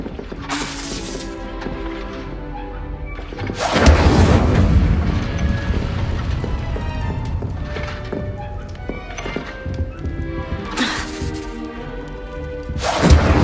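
Fire spell cast in Hogwarts Legacy, with a loud whooshing burst near four seconds and a sustained roaring, crackling blaze. Sharper flare-ups follow near eleven and thirteen seconds over a steady game soundscape.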